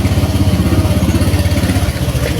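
A Honda Vario/Beat scooter engine, fired up by kick start after the electric starter fails, idles with a steady, close, rapid low putter and light mechanical clatter throughout.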